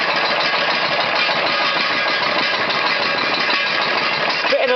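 Briggs and Stratton small engine running steadily after a cold start, a loud, close, continuous idle with an even chugging texture and no talk over it.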